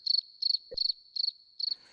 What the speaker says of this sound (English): Don't even give me the look like I set you Crickets.